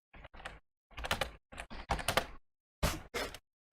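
Close, crisp bursts of computer keyboard typing in quick clustered runs separated by brief silences, loud and dry with no talking.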